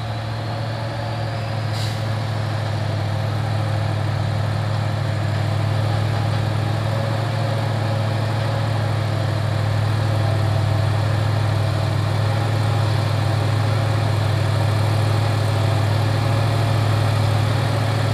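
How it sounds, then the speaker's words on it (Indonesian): A container-laden trailer truck rolls downhill with its heavy diesel engine droning at a steady low rumble for a long stretch, close and loud, with one brief hiss near the start and no talking. "Di sini pun ada truk trailer juga bosku, yang bermuatan kontainer sedang menurun"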